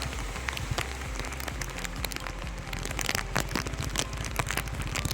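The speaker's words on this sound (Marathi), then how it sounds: "असा पाऊस आपल्या मंडणगडला नाही वाटतं ना" Heavy monsoon rain pours during a motorcycle ride along hidden village roads in Konkan, between Mahad and Mandangad. A dense, continuous patter is dotted with sharp splashy hits, and nobody speaks.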